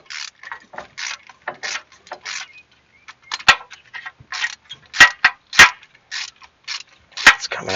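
A ratchet backs a spark plug out of cylinder 2 on a Chevy Trailblazer, making quick bursts of close metallic clicking with short pauses between strokes, plus a few sharper clinks.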